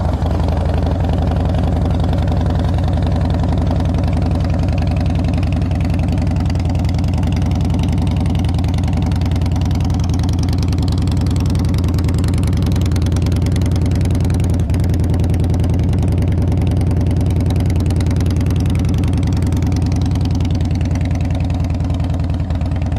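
A fuel-injected 2007 Harley-Davidson Deluxe FLSTN with low mileage idles steadily and loudly up close, a continuous deep throbbing rumble with no talk over it.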